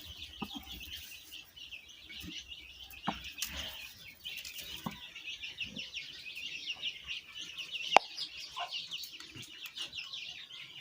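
Rooster of a Turkish breeding pair, a top-quality black cock blind in one eye, clucking: faint repeated clucks and chatter under steady background bird calls, with brief louder spikes and no talk.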